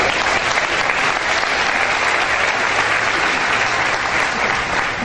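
Continuous, even applause from a church congregation, a dense wash of many hands clapping at steady loudness for about five seconds with no gaps.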